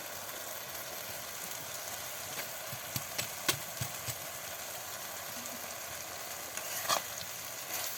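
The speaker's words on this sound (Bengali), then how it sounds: "এই শাকগুলো এখন নেড়ে চেড়ে আবার ভালো করে কষিয়ে নেবে" Steady sizzling of Malabar spinach (pui shak) frying in a pan with potatoes, with scattered scraping clicks from stirring throughout; no talking.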